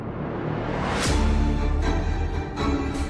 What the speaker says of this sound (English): These are full-on movie trailer sound effects.